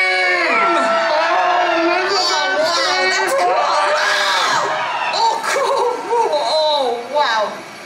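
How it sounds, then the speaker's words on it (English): Audience at a Universal Orlando theme park show screaming together on cue, a loud, sustained mass of shrieks and yells from many voices, mixed with laughter and cheering as the noise breaks up toward the end. "Everybody scream!"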